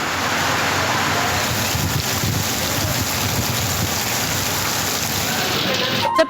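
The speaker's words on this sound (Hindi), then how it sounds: "बदीन, गुलाची, दादू और मोरू में भी तेज बारिश हो रही है।" Heavy monsoon rain in Sindh, a loud, dense, continuous hiss of downpour with wind buffeting the microphone throughout.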